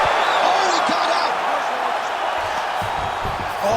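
A virtual arena crowd roars steadily during a UFC 5 video game bout between Bruce Lee and Tyron Woodley on PS5, a loud, continuous cheer with a thumping impact partway through and commentary voices over it.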